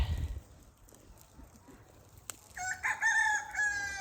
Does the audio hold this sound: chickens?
yes